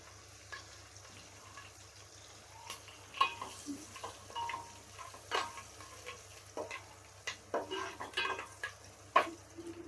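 Tempering spices with a pinch of asafoetida sizzle faintly in hot oil for a bottle gourd and tomato dal, with scattered sharp crackles and pops over a soft steady hiss.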